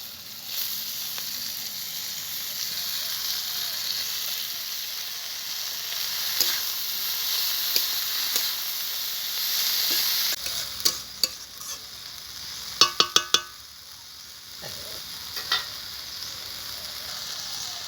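Onions fry in a pan with a bright, steady sizzle, then boiled kalmi greens go in and the sizzle softens, joined by a few sharp clinks and scrapes of stirring, with no talking.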